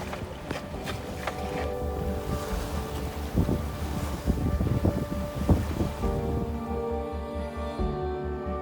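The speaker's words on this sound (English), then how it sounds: "We've got 11 knots, 12 knots of wind, and yeah, going fantastic." Steady wind rushes across a sailing boat under a full genoa and a single-reefed main in 11 to 12 knots of breeze, with water sloshing along the hull and constant wind buffeting the microphone.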